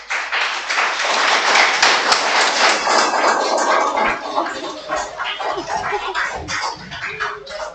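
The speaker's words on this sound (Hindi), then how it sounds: "सब ताली बजाएंगे" Classroom applause in a lecture hall, with many hands clapping in a dense, loud, sustained burst that thins out toward the end.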